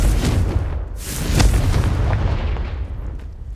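A Confringo fire spell blasting in the Hogwarts Legacy video game, a loud booming explosion with a sharp crack near the middle and a long rumbling roar that slowly fades.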